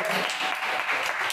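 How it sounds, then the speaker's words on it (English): Audience at a stand-up comedy competition final applauding a comedian, a dense, steady wash of clapping throughout. "Please give him a round of applause."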